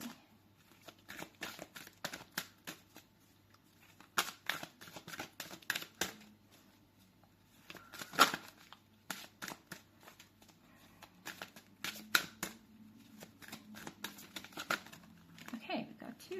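Tarot cards are shuffled in soft, irregular riffles and flicks, fairly quiet and close, in repeated bursts over a steady low background hum.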